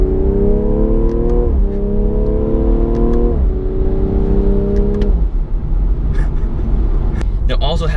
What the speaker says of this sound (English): Let's give this car some gas.